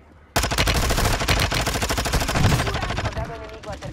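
Rapid automatic gunfire in Call of Duty: Modern Warfare II erupts suddenly after a brief quiet moment, sustained loud bursts that gradually thin out toward the end, with a player's voice faintly underneath.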